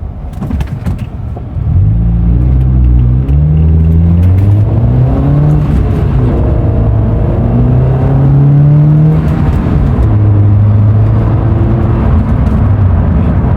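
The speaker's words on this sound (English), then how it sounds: "Obviously, I'm not gonna speed because I'm a law-abiding citizen, but I'll give it some gas." A car climbs a hill under throttle: the engine swells into a loud close-up rising drone, shifting pitch through several gear changes, then holds a steady strained hum.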